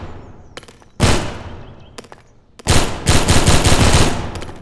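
Video game gunfire effects from an add-on ring out in close, loud bursts: a sharp shot, then a second, followed by a rapid automatic volley lasting a couple of seconds.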